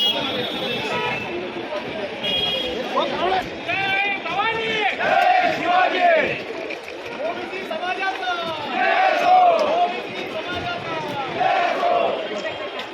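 Dense crowd noise at the CST subway opposite the municipal office in Mumbai, near a protest march: continuous loud babble of many voices with shouts and chant-like cries rising and falling throughout.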